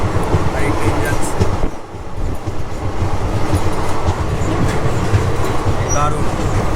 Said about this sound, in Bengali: আর এই ট্রেন যাচ্ছে